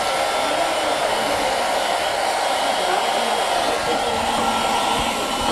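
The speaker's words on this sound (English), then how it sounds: "so I'm going to burn this cockroach with my heat gun" A heat gun blasts hot air at cockroaches indoors, a steady, loud, continuous blowing roar with no break, alone without talk.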